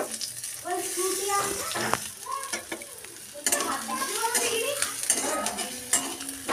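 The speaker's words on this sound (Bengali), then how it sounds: "আর এর মধ্যে আমি পেঁয়াজটা দিয়ে এই গোটা মশলার মধ্যে ভেজে নেব।" Onion frying in a pan among whole spices, with a soft steady sizzle broken by scraping stirs and light clinks of a utensil against the pan, while a voice talks quietly over it.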